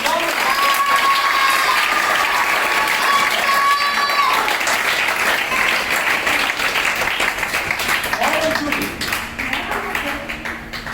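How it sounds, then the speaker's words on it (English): Loud, dense clapping from a crowd at a school boys-versus-girls education event fills the space without a break, with voices and cheers mixed in and a slight fade toward the end. "Clapping loud"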